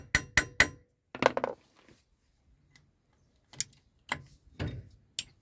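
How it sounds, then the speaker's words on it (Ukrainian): A Vorel screwdriver bit is lightly tapped into a seized bolt head on a 2001 Renault Laguna 1.9 diesel, a few sharp metallic knocks in quick groups separated by quiet gaps, close and clear. "Ставлю нашу бітку, трошечки підбиваю, щоб вона зайшла."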